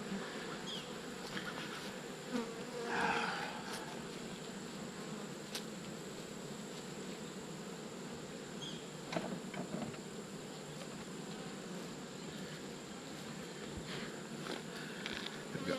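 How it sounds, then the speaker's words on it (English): Agitated honeybees swarm around an opened hive, a dense, steady buzzing close by that fills the air for a long stretch, with occasional louder passes near the ear. "these bees are not at all happy with me"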